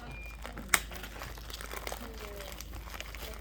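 Packaging of infusion tubing being opened while preparing a heparin infusion: soft plastic crinkling and rustling, with one sharp snap early and low handling noise throughout, close, under faint speech.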